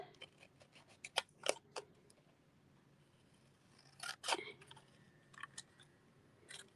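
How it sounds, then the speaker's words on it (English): Scissors snip through paper while fussy cutting a die-cut piece for a handmade gingerbread and peppermint holiday card, a series of close, crisp cuts in bursts with quiet pauses between. "So all I'm doing is I'm going to fussy cut this."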